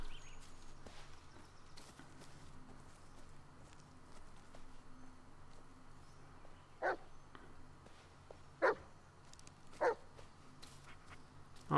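Bullet the dog in the Blair Witch video game gives a few short barks late on, after a stretch of soft footsteps and quiet forest ambience.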